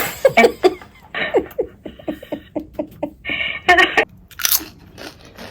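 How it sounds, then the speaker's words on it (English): A snack is crunched and chewed close up in a quick series of crisp bites, with some chuckling mixed in. "I needed a snack."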